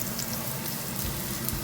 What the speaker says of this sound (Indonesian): Oke, jadi sekarang kita saatnya untuk menggoreng.